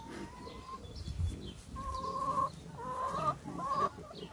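Hens in a small backyard pen at a home flock clucking close by, a series of short repeated clucks and calls with no talking.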